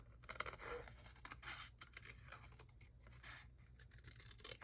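Scissors fussy cut paper monarch butterflies close up, giving soft continuous snipping and scraping with small rustles of paper, quiet and steady throughout.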